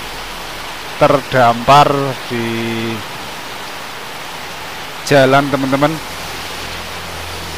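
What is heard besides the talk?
heavy rain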